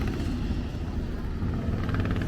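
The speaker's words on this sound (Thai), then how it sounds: "ไม่ใช่เสียงเฮลิคอปเตอร์นะครับเป็นเสียงของบิ๊กไบค์นะครับ" A big bike motorcycle engine rumbles steadily at a distance on a mountain road in Nan province, Thailand, a continuous low drone that holds through the whole stretch without a break.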